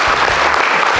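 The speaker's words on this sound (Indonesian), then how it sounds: "Tepuk tangan buat Ibu Sidarta." A short, loud burst of clapping from a crowd of students at a school, dense and close.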